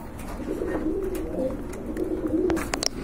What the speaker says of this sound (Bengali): এটা কিন্তু মাদি কবুতর